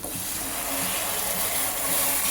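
Hot water is poured into a pot for chicken biryani rice, giving a continuous close gushing, splashing flow for a couple of seconds.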